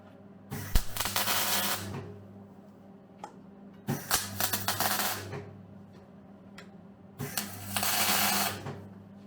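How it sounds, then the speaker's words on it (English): A metal bracket is tack welded in three short bursts of harsh crackling arc buzz, each lasting one to two seconds, separated by quieter gaps with a low background hum. "I'm going to tack it now"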